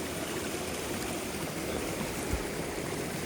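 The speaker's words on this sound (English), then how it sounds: "this tells me it's a hot waterfall because the source of water to this pool is that waterfall" A small hot spring waterfall pours steadily into a pool on a winter night, a continuous broad rush of falling water heard close up without a break.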